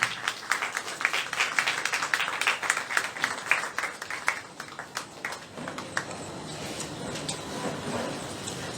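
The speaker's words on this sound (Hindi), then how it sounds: "हम प्लीज़ उनके लिए भी आप भरपूर तालीम बजाइए" Applause from an audience at a breast cancer awareness session, a burst of clapping with distinct claps up front that thins into a softer, scattered patter and room noise toward the end.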